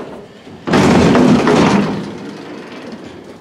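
A spring-loaded hydraulic freight elevator door at a shopping mall rises by itself and slams into the ceiling with a loud, sudden metallic bang that booms and rumbles before slowly fading into a reverberant service corridor.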